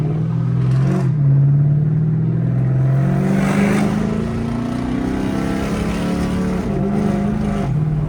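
A catless straight-pipe Chrysler 300C engine drones loudly and continuously from the cabin, its deep exhaust tone slowly climbing in pitch under partial throttle, then dipping and rising again.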